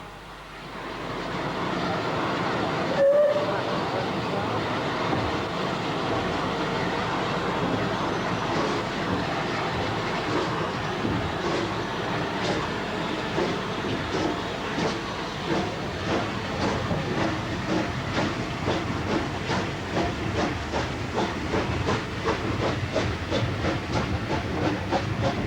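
Southern Railway West Country class steam locomotive running, steady steam hiss and rumbling, with a brief whistle-like sound early on and rhythmic exhaust beats growing clearer later.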